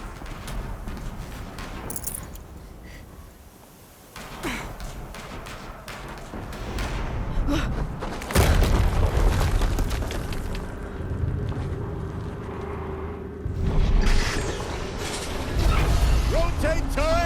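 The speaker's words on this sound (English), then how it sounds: "Another explosion." Explosions in the video game Horizon Zero Dawn Remastered: heavy, booming blasts land amid clanking mechanical game sounds and a steady background rumble, with a couple of louder impacts partway through.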